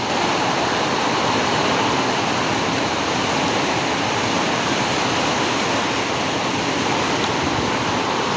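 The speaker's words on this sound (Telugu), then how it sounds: "కాసేపు కూర్చొని వర్షాన్ని ఎంజాయ్ చేస్తున్నాను" Steady, heavy rain pours down in a dense, unbroken hiss that stays even from start to finish, with no voices.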